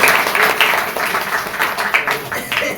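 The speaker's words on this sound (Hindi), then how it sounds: "बजा दीजिए ताली।" Studio audience clapping at a Hindi talk show on saving money, a dense burst of applause that runs the full length at steady, fairly loud level with some chatter mixed in.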